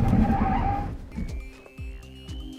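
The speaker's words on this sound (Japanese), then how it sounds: "じゃあ今度は急ブレーキ効かせながらのハンドル操作行ってみたいと思います" A Nissan Sakura electric kei car brakes hard while steering on a driving-school course; its tires squeal loudly for about a second, then the sound drops to a faint electric motor whine with light clicks and bumps.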